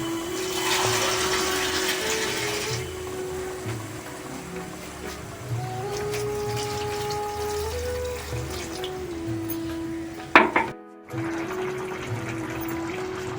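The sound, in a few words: water being poured into pulao pot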